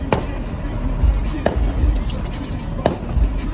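Fireworks go off over a beach at a 4th of July display, heard from a nearby parking lot as three sharp distant bangs spaced over a few seconds with low rumbling between.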